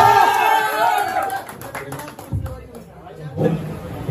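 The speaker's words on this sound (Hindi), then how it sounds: "उसके लिए एक जोरदार ताली बजाएं।" A crowd at a stage event with a gathering of YouTubers claps and chatters, bursts of applause rising and falling amid a murmur of voices and an amplified announcer.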